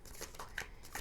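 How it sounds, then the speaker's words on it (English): Tarot cards being shuffled in a short burst of close, crisp riffling flutters, several quick papery pulses with no talking. "let me shuffle one more and then I'll grab that one"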